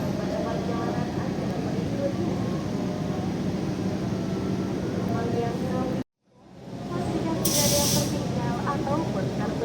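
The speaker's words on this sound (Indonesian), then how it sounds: "kereta api Argo Anjas Moro tiba di stasiun Semarang Tawang" The Argo Anjasmoro train pulls into Semarang Tawang station with a steady, loud, broad rumble and hiss, briefly cut off, then swelling back with a short burst of hissing.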